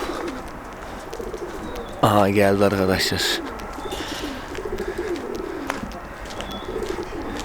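Pigeons cooing close by, with a burst of bird calls partway through, while someone talks over the scene.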